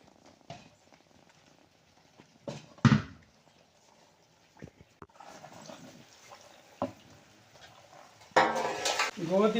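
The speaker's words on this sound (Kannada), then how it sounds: "ಸ್ಟವ್ ಆಫ್ ಮಾಡಿ ಈ ಪಾತ್ರೆಯನ್ನು ತೆಗೆದು ಕೆಳಗಿಡುವ" A cooking pot of wheat halwa made with ghee is lifted off a stove and set down, with sharp metallic clanks and scrapes scattered among quiet pauses, then louder clattering at the end.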